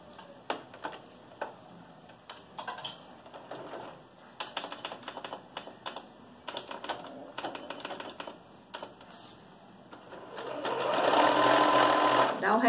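A sewing machine stitches a fabric card wallet in short bursts of rapid mechanical clatter, some pauses between runs, building to a longer continuous run near the end.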